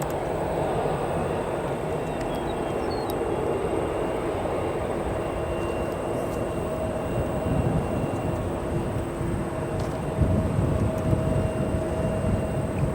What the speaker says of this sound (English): Southwest Airlines Louisiana 1. Now departing to Baltimore, Maryland.